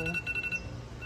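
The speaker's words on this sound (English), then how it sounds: "Oh, that's the alarm." A phone alarm beeps in a quick repeating pattern of short electronic tones, moderately loud and close, fading out after about half a second.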